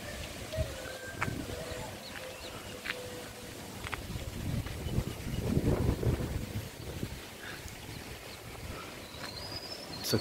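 Cool wind blows outdoors near a dried-up stream, a steady broad rush with gusts buffeting the microphone, with faint scattered bird calls in the background.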